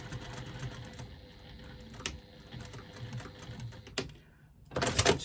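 A sewing machine stitches a line along a Sven wristlet bag, a steady whirring rattle that runs for several seconds, pauses briefly, then starts again with a louder burst.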